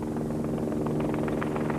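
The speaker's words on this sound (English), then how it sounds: "There's no problem navigating your way across the Sahara Desert when you've got all the high-tech expertise of the navigational aids available in this modern helicopter." A modern helicopter flying over the Sahara Desert during a desert rally, its steady rotor and engine drone loud and continuous with a throbbing low hum.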